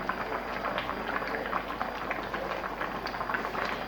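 Lasagna sheets boil in a pot of water, giving a constant bubbling, popping simmer that stays even and fairly close throughout, with no one speaking.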